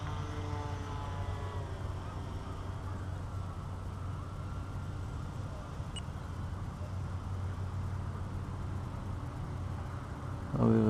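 E-flite P-51 Mustang RC model plane flying acrobatics, a steady buzzing electric motor and propeller drone holding level through most of the stretch, with a sharper rise near the end.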